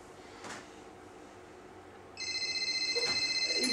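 A cell phone rings with an incoming call, a steady repeating electronic tone that starts partway through at moderate volume after quiet room noise with a faint knock.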